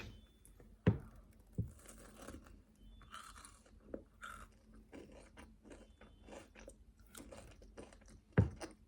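Dubai chocolate being bitten and chewed up close, crisp crunchy snaps and irregular munching with two sharper bites standing out, quiet and intimate with no talk.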